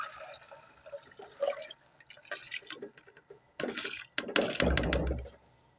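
Washed mixed lentils and chana dal tumbling into a cooking pot, a run of soft wet patters and clatters that builds into a heavier, fuller pour near the end, close and without talk.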